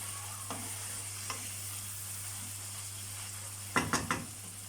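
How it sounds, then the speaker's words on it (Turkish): Minced meat frying in a pan, a steady close sizzle with a low hum underneath and a few sharp spatula scrapes and clinks near the end. "Kıymalarımız suyunu çekene kadar iyice kavuralım."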